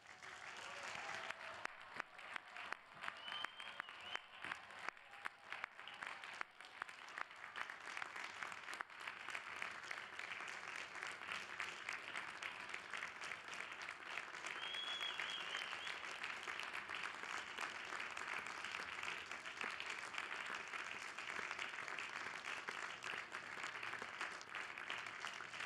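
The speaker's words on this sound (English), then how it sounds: "Will the candidates stand so that we may give them a final round of applause" Sustained, even applause from a large audience fills a hall for PhD graduates at a graduate school ceremony, the dense clapping holding steady for the whole span.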